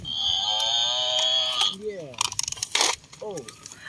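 Deep mooing from a buffalo among toy or animal sounds, a long loud drawn-out call followed by a voice speaking over shorter bursts.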